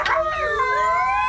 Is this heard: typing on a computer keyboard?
no